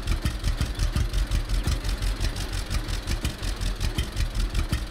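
An old tractor engine idling in the Lumberjacks Dynasty video game, a steady low throbbing rumble with even pulsing beats, close and continuous with no talk.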